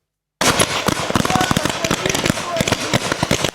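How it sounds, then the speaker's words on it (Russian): Rapid, dense bursts of gunfire and explosive cracks at a children's camp war game, loud and continuous after a brief silence, with voices mixed into the chaos. "Выстрелы, взрывы и крики победителей."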